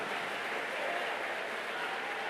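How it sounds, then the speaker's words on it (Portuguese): A church congregation at an Assembly of God Bible study applauds, producing a soft, continuous wash of clapping that sounds somewhat distant and even throughout. "Você pode aplaudir ao Senhor aqui?"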